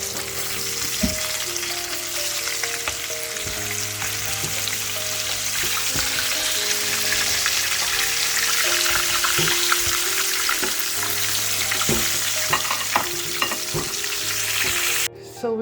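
Steady, loud sizzling of chicken frying in a pan, with occasional stirring scrapes and clinks throughout, no talking.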